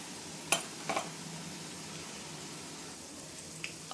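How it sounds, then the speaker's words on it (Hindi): Gram flour boondi fry in a kadhai until crisp, making a faint, even hiss broken by a few sharp clinks early on, with no voices. "बस क्रिस्पी होने तक इसको हम फ्राई कर लेंगे"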